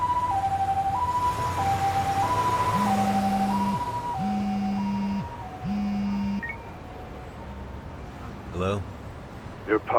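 An ambulance siren in the video game Lost Judgment wails loudly in alternating two-tone cycles, joined by a lower horn-like tone, then cuts out into quieter game sounds with a brief voice near the end.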